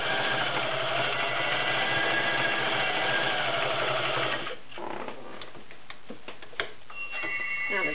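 A vintage Viking 2841 Turissa convertible sewing machine stitches zigzag, running fast and steady with a rapid mechanical whir, then slowing into looser, uneven ticking and clacking.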